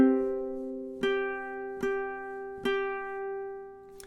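Ukulele strums through measures 21 and 22 of a song, with a sustained chord ringing under three crisp strokes at even intervals, quiet and close.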